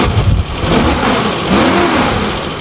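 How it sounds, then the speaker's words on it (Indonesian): The carbureted engine of a 1996 Suzuki Katana GX revs loud and close in a smooth, steady roar that swells slightly and then holds, with no talk over it. "Kalau dari suara mesin, suaranya masih oke, masih halus."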